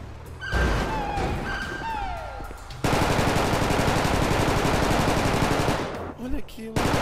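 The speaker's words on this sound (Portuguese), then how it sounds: "Olha o outro atirando de pistola." Gunfire erupts in a GTA roleplay police shootout: rapid, sustained volleys of shots fill most of the stretch after a brief opening of voices and tonal game sounds, then cut off near the end.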